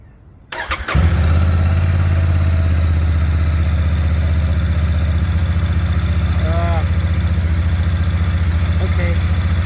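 Motorcycle engine turns over and catches within the first second, then idles in neutral at a steady, loud, even rumble close by for the rest of the time, with no talk over it.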